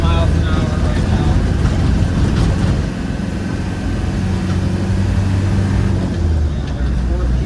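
1990 Land Rover Defender 110 County with the 200Tdi diesel engine pulling steadily while accelerating at around 30 mph, a loud continuous low engine drone with road and wind noise, heard from inside the cab.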